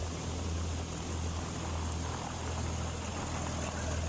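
A company propeller plane flies over a remote farm property, its engine a steady, droning rumble with a strong low hum, continuous and moderately distant throughout.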